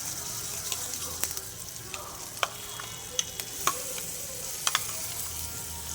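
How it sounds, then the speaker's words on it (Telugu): Raw onion chutney stirred into a hot tempering in a pan, with a soft steady sizzle under occasional sharp clicks of a spoon scraping the pan, close by with no talk. "ఈ తాలింపులో మనము రెడీ చేసి పెట్టుకున్న ఉల్లిపాయ చట్నీని కూడా వేసుకుందామండి."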